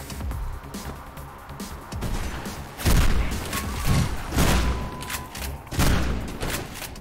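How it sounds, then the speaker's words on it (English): Shotgun blasts in the video game Mirror's Edge, several loud booming shots fired at irregular intervals, each with a short decaying tail over game background noise. "Oh, it's a fucking shotgun"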